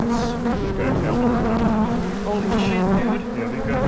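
Bees buzzing around a hive in a trailer, a dense steady drone of many insects filling the whole stretch, close and loud with no talk.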